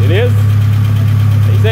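A Mitsubishi Triton pickup engine idles while warming up, a loud, steady low rumble with a constant even throb held close throughout the short stretch.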